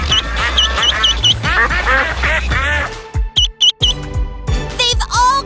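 Real ducks quacking near a toy train track in a children's rubber duck race episode, a lively chorus of nasal quacks in quick bursts, loud and close, with a few brief pauses between calls.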